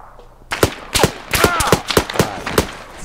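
Video game gunfire rings out after a quiet moment, with around ten sharp, loud shots in quick, uneven bursts over a couple of seconds.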